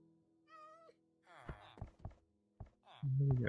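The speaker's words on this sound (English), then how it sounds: "The cat kind of surprised me there." A Minecraft cat meows once in a short rising call, followed by soft in-game thunks and clicks and a brief burst of louder noise at the end.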